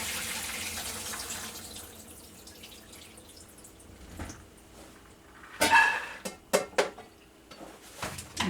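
Soda water drained off black-eyed peas in a kitchen sink: a steady wash of running water, then a few sharp clinks and knocks of a pot and colander near the end, close and without talk.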